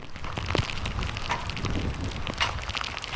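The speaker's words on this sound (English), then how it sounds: "The wind picking up, as you can see, in these sheets of rain, really just making their way in here." Storm in Hernando County with strong wind and heavy rain, a dense, rushing wash of rain and gusting wind buffeting the microphone, steady and loud throughout with no clear speech.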